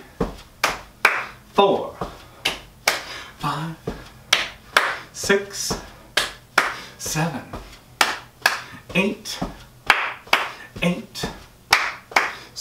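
Hands clap in steady time during a chair aerobics workout, with sharp, evenly spaced claps repeating about once a second throughout, close and crisp, while an instructor counts along.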